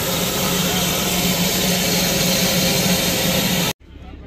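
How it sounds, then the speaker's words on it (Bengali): A diesel engine pushing the Darjeeling toy train's steam engine uphill, a loud continuous mechanical roar close by that cuts off abruptly near the end. "স্টিম ইঞ্জিনটা নিজে টানতে পারছে না, যে কারণে আমাদের ডিজেল ইঞ্জিনটা আবার ওকে পুশ করছে"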